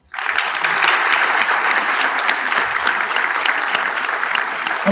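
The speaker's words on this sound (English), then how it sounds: "So one more round of applause." A school community audience claps in a sustained, dense round of applause, loud and steady from start to finish with no voices standing out above it.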